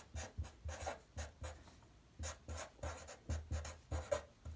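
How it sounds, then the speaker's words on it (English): Pencil writing on paper in short strokes and scratchy bursts, with a brief pause in the middle, close and quiet with no talk, while prime factor pairs are jotted down in a math lesson. "So let's write that here."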